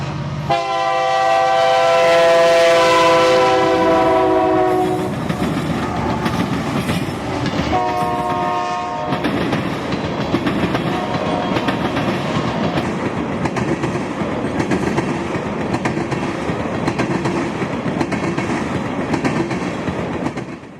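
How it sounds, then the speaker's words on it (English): Winter Haven ethanol train K476, a string of empty ethanol tank cars headed north, passes close and loud, opening with a long sustained horn blast before steady wheel clatter and rumbling rolls on to the end. "the Winter Haven ethanol train arrives, K476, empty ethanol tanks headed north"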